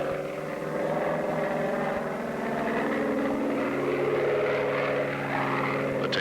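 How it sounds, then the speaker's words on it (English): A Bearcat aircraft takes off with a steady, loud propeller engine drone that holds level throughout and has no voices over it. "The takeoff appears normal,"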